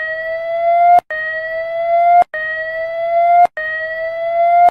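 Georgia's national emergency alert alarm: an electronic tone of steady harmonic pitches that rise slightly, repeating four times with brief silent gaps, loud and close with no talking.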